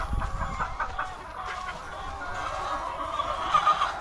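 Hens cluck in a farm enclosure in Cebu, with several soft, close calls overlapping at a quiet level.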